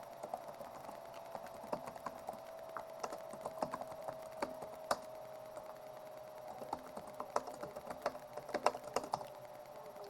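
Fingers typing a password on a computer keyboard, heard as quiet, irregular clicks and clacks over a faint steady background hum, with no talking.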